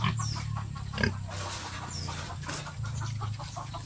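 A native pig grunts in low, repeated bursts close by, likely among its newborn piglets, with a few thin high squeals on top and steady background noise throughout.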